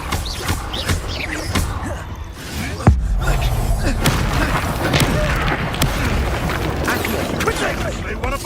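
A Confringo spell goes off in Hogwarts Legacy, a deep booming blast over a dense bed of combat effects and music, loud and close, with a sharp thud near the middle and a voice calling out amid the fighting.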